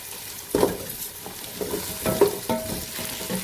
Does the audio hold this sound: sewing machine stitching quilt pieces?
no